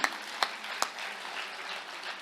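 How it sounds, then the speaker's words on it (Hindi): Audience at a Hindi comic poetry gathering breaks into applause, a continuous bed of clapping with a few sharp, distinct claps standing out early on. "तो एक बार तालियां अपने सौभाग्य पर बजाइए"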